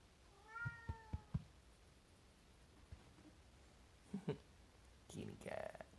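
A house cat meows several times in a short series of close, clear calls near the start, then after a pause gives a couple more meows and a final longer, whiny cry, with no talk over it.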